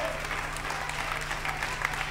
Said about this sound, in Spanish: Ese aplauso de alabanza para el Señor